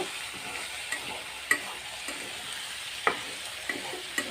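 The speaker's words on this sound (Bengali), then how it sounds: "এদিকে যে ভেন্ডি ভাজিটা ফ্রাই হয়ে আসছে" Okra (bhendi) frying in a pan gives a steady soft sizzle, broken by a few sharp clicks and light stirring taps, with no voices.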